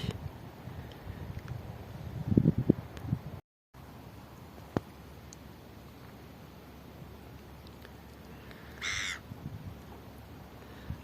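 A single crow caws once, fairly distant, late in an otherwise quiet outdoor scene near Carnac, France, with a soft breezy background and a few faint knocks earlier.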